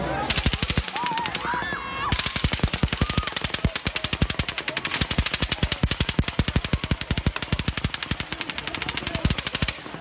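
Sustained rapid automatic gunfire, more than sixty shots, at a crowded outdoor country music concert in Las Vegas, cracking in dense, steady bursts with a brief pause early on and some background voices beneath.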